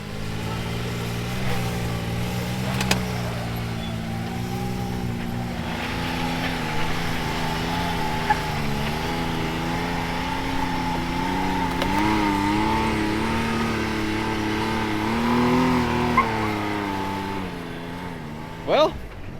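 A side-by-side utility vehicle, its back driver's side tire a little wobbly, drives around with a steady engine drone that rises and falls in pitch, while people talk over it; a short sharp knock comes near the end.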